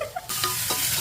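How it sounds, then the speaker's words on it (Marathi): A tadka for vangyache bharit sizzles in hot oil, a short burst of bright, loud crackling hiss that rises suddenly after a brief quieter moment, with no voices. "तडका चाललेला आहे"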